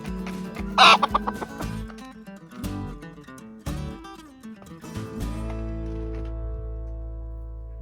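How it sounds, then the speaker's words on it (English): Liege fighter hens in a coop cluck and squawk nearby, with one loud sharp squawk early on, over a steady low hum and scattered rustling. "this is where we have the liege fighter hens now in the first hoop coop"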